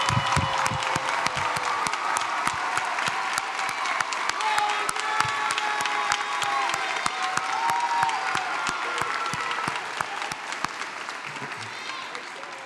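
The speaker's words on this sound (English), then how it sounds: "Will the parents of our candidates please stand and receive our applause?" A commencement ceremony audience at Lamar University's College of Arts and Sciences applauds the graduates' parents. The dense, sustained applause carries faint cheering throughout and eases slightly toward the end.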